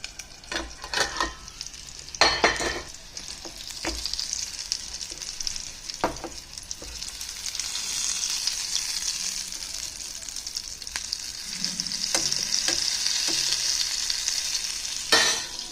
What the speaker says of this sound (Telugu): కాబట్టి సిమ్లోనే పెట్టుకొని వేయించుకోవాలి.